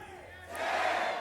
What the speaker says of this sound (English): Lots of crowd chants coming out here in the studio,